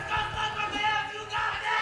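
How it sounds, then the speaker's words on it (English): A crowd cheering and yelling at a competitive team game match in a winners quarter-final, a dense, loud wash of voices that stays steady with a brief dip before rising again. "we already got some cheering from the crowd,"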